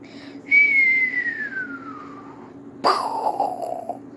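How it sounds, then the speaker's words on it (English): A person whistles as a homemade sound effect during an Among Us game, producing a long descending whistle followed after a pause by a second shorter whistle, loud and close with no speech. "See, it still wasn't a good whistle,"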